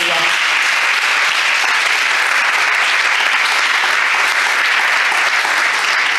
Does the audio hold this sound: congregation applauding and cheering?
yes